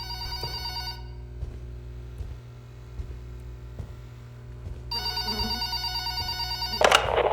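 A telephone rings in a video game, with two distinct bursts of ringing separated by a quiet stretch over a steady low hum, ending with a short clatter.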